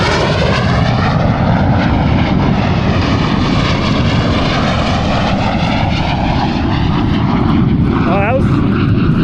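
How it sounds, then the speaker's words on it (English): A fighter jet roars overhead above a lake along the Missouri River, a loud, continuous broadband rumble that holds steady for several seconds as it passes. "There's a jet flying over."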